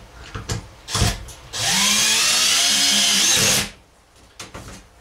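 A power drill drives a screw home while a DIY travel trailer kitchenette is being built: a loud, close whine for about two seconds, framed by handling knocks before and after.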